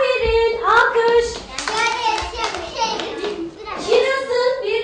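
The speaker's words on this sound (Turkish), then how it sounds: "Alkış." Young children in a kindergarten classroom clap together in a short burst of applause, mixed with a teacher's speech and children's voices.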